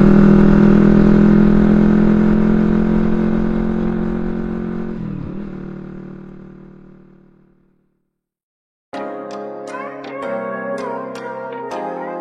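A Honda CBR 250 RR motorcycle engine at a workshop hums steadily and loud, fading away over several seconds to silence before a sharper, revving burst of engine sound returns with clattering peaks.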